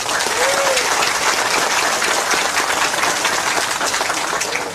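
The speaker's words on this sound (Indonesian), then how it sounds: "Kasih tepuk tangan yang gemuruh" Audience applause at an Islamic religious lecture gathering, dense sustained clapping from a crowd holding at an even level throughout, with a faint voice briefly audible at the start.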